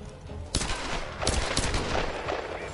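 Gunfire in Tomb Raider Definitive Edition: a few sharp pistol shots, loud and close, spaced irregularly over a busy background of combat noise, with no talking.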